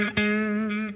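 An electric guitar runs through BIAS amp modeling with the tube driver pedal switched off. A strummed chord rings out with a bright, sustained overdriven tone and then fades over about a second.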